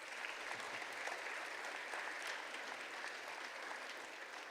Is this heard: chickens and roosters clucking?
no